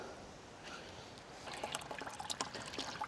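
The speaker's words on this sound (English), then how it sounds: "just mixing it in a few gallons of water before I dump it in the tank" Water poured into a large 250-gallon irrigation tank, a steady splashing trickle that grows busier and louder partway through, close by with no voices.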